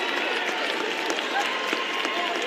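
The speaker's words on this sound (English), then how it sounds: "Blair's student body, the crowd is ignited a little bit." The Blair student body cheers and claps at a CIF championship basketball game, a dense, steady crowd roar with voices talking over it.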